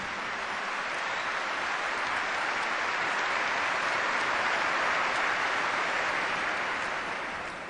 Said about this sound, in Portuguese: Vamos aplaudir o Senhor por isto.